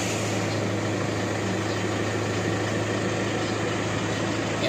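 An Isuzu Mu-X with an EGR module fault and a check-engine light idles with a steady, even engine hum and low drone, close and continuous, with no distinct start-up crank.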